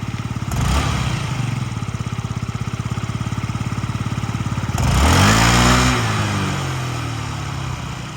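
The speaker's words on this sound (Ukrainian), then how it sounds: "Так, тихенько двигун працює." Yamaha Jog SA39 ZR fuel-injected scooter engine idling close by, a steady low putter with a brief rev near five seconds, running smoothly without other noises.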